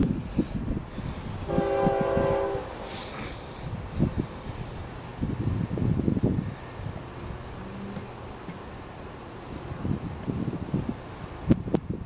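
An FEC southbound freight train rumbles steadily past while its horn sounds a long blast early on, with rattling wheels and wind noise throughout.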